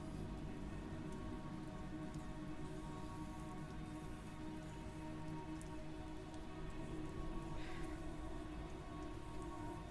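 Steady rain falls throughout, a dense even patter with no pauses, close and continuous.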